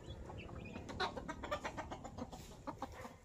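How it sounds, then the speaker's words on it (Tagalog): A rooster and chickens cluck and call in a farmyard, with several short, moderately faint bursts close together. "Nakarinig ng tawag ng tandang."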